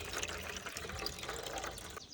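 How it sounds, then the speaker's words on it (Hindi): Water running from a tap into a container, a continuous splashing gurgle with no talking that cuts off just before the end. "इसका भरेंगे पानी"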